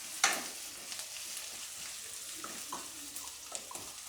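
Wheat rava (cracked wheat semolina) sautéing in oil for upma, a steady soft frying sizzle with light stirring scrapes and a sharper clink near the start, moderately quiet and without speech.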